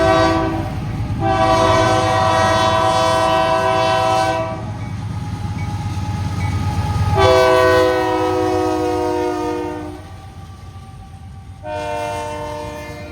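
A Union Pacific freight locomotive rumbles past at close range, its loud multi-tone horn blaring in long blasts with brief breaks over the steady roar of the train.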